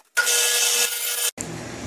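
A table saw cuts a piece of wood to length: a loud, bright whining cut lasting about a second, ending abruptly, followed by the lower hum of the saw continuing to run.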